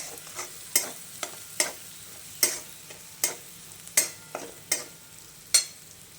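Tempering for ragi (finger millet) dumplings sizzles steadily in hot oil while a spoon scrapes and stirs the pan in sharp, regular strokes, close up and with no talking.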